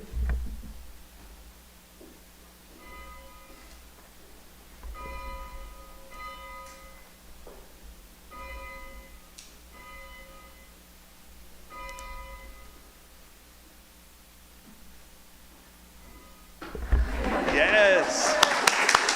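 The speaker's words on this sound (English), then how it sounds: "I now invite one of our leaders, Isla, to ring the bell" A bell rung at a Unitarian Universalist service for the eight principles sounds about seven evenly spaced, clear ringing strikes that hum over a quiet room, followed by a sudden loud burst of noise like applause.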